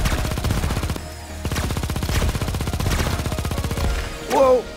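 Machine guns in the video game Xenoraid rattle in fast, steady bursts, loud and close, with a brief lull before firing resumes and an electronic chirp near the end.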